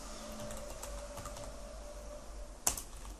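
Java code being typed on a computer keyboard, a quiet stream of close key clicks over a low room hum, ending with one sharper louder keystroke near the end.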